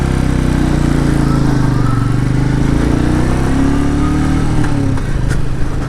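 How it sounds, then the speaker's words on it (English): A 2020 Royal Enfield Meteor 350 BS6 single-cylinder motorcycle thumps steadily through its exhaust with a deep bass note while riding at low speed, loud and close for the whole stretch, with gently shifting revs and no talking. "I really like the bass note of this exhaust, and I also like the way this motorcycle sounds"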